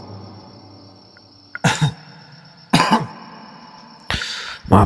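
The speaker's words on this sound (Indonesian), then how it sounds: "Maaf sedikit batuk." Three close, sharp coughs, the last a double burst, break through a quiet background with a faint steady high hum.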